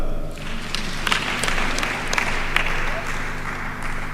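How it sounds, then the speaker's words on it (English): A graduation audience at a university ceremony in Eastern Africa claps steadily, a dense, continuous wash of applause with scattered sharper claps standing out throughout. "You can clap."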